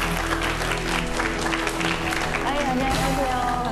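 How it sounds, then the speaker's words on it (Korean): An audience claps steadily to welcome a mathematics education professor onto the stage at a lecture on children's math weaknesses, with dense continuous applause and some background voices under it throughout. "박수로 맞이해 주세요."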